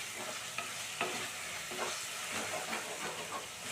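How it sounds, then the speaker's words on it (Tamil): Onion, tomato and ginger garlic paste sauté in oil in a pan for a squid curry, a steady close sizzle with soft scraping stirs throughout. "சேர்த்து நல்லா பச்சை வாசனை போகிற வரைக்கும் நல்லா வதக்கிக்கணும்."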